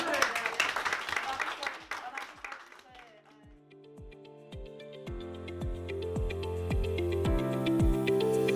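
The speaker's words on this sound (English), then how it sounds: "Big clap to everybody." Dense applause and clapping fill a staff awards ceremony hall for almost three seconds, then fade out as music with steady beats and sustained tones takes over.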